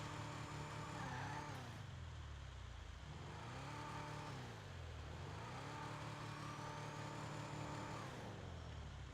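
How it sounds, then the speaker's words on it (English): An upgraded car in Grand Theft Auto 5 runs with a thin high turbo whine over engine drone that rises and falls through several gear sweeps, steady and moderately quiet, with no talking. "Little whining noise. That's the turbo."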